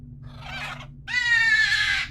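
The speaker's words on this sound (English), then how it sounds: "as you just heard, the bird was just murdered right in front of our eyes" A crow-like bird in the video game Paranormica gives two harsh caws, a shorter rough one followed by a louder, longer strained cry, close and clear with nothing else around it.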